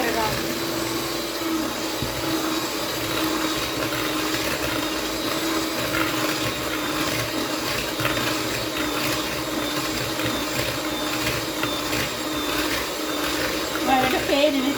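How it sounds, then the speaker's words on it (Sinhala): An electric mixer beats butter and sugar for cake batter at steady medium speed, a continuous close whirring drone throughout, while a person talks over it. "සාමාන්‍ය මධ්‍යම ප්‍රමාණයේ වේගයෙන් බීට් කරගන්න කේක් එක."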